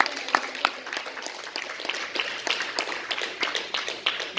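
Church congregation clapping in applause, a loose, uneven patter of hands at moderate volume with faint voices underneath.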